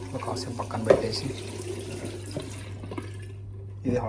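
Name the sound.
water running from a hot water tap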